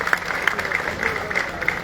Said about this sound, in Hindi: आप ताली बजाकर इनका अभिनंदन और धन्यवाद ज्ञापित करें।